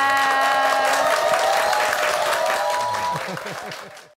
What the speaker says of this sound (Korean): 서민 교수님께 큰 박수 한번 부탁드리겠습니다.